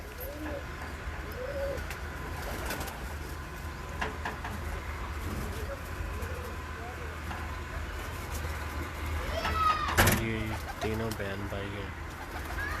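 Pigeons on a rooftop loft, golden and teddy crosses, coo softly at moderate distance among faint background noise and a passing engine; a louder burst of bird calls rises near the end, with people talking at times.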